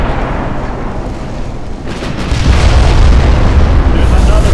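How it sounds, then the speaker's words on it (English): Warship guns fire in a British battlecruiser engagement in Ultimate Admiral Dreadnoughts, a dense, loud rumble of booming naval gunfire that swells midway, with a voice talking over it. "I've got the siege list and the guns are still firing."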